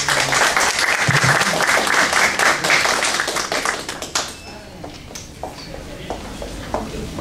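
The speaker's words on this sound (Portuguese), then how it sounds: "para qual pedimos uma salva de palmas" Loud, dense clapping from an audience at a state court of justice ceremony, welcoming a judge to the tribune; the applause thins out after about four seconds into scattered claps and room noise.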